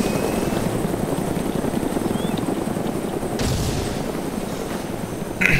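Helicopter rotor and engine in the DayZ video game, a steady dense whir holding loud and close throughout, with a brief burst of noise partway through and a sharper sound at the very end.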